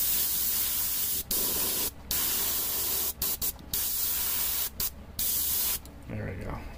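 An airbrush sprays paint onto the flame tips of an Adrax Agatone miniature, a steady close hiss broken by several short pauses and cutting off near the end.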